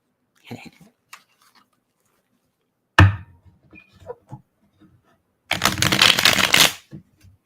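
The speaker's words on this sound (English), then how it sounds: "Such a good shuffle on these cards." A deck of tarot cards is handled with a few light taps and flicks, then a loud, close riffle shuffle that runs for about a second before stopping.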